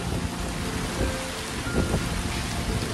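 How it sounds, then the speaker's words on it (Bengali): Heavy rain pours down hard and continuously at an outdoor birthday gathering, a dense, loud roar of drops hitting surfaces nearby, including a stage banner. "কি জোরে বৃষ্টি"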